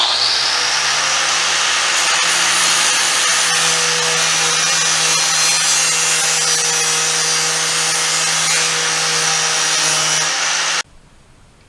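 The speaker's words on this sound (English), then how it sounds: "we're going to have to take the flapper wheel, grind this down to where it will actually all fit just fine" A flap wheel on a grinder grinds down a metal mounting part during a Chevrolet C10 rattle repair, a loud, steady high-pitched whine held for about ten seconds before cutting off abruptly.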